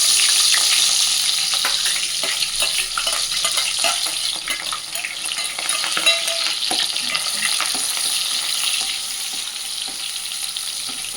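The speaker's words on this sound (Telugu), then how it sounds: "ఇప్పుడు ఆనియన్ వేస్తున్నాను." Onions sizzle steadily in hot peanut oil for a taro curry, a dense, even crackle and hiss with faint stirring scrapes, close and continuous throughout with no voices.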